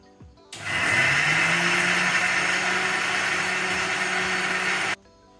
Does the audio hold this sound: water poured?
no